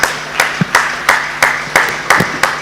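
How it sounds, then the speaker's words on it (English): Panelists at a Nigeria diaspora investment summit receive a round of applause: loud, close clapping with sharp, regular claps roughly three per second carried over a softer spread of hands across the room. "bigger round of applause"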